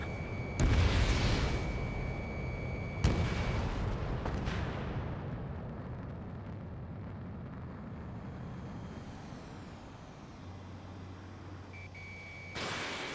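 Missile launches and explosions in a combat video game, with loud booming blasts near the start and around three seconds, followed by a sustained rumbling roar that fades and swells again at the end.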